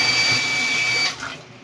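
A faucet fed by a booster pump runs with a loud, steady rushing hiss and a thin high whine, then the flow cuts off abruptly near the end.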